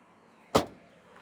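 Trunk lid of a Dacia Spring electric car shutting, a single firm thud near the mic with a brief decaying rattle, otherwise quiet.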